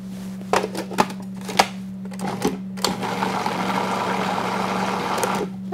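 An electric mixer runs through blueberry cheesecake batter in a kitchen, a steady motor whir with intermittent clicks and knocks early on, then a denser continuous churning for the last few seconds.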